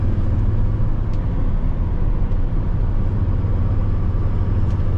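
A 2008 Chevy 3500 Duramax diesel truck cruising on the road, heard from the cab as a steady low engine drone and road rumble, constant and fairly loud with no talk.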